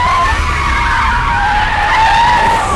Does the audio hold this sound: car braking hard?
yes